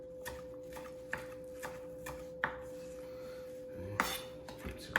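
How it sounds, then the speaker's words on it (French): A knife slices basil into thin ribbons on a board, a series of quiet separate taps and clicks with faint rustling between them, close by and without talk. "je vais juste le couper en ruban comme ça ici"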